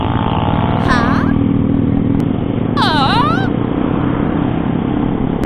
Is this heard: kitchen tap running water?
no